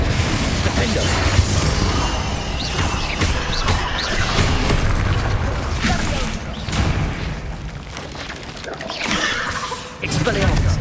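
Spell combat in the Hogwarts Legacy video game, where the Confringo blasting spell goes off amid booming explosions and crashes. Voices shout spell names over the dense, loud clamour of battle effects.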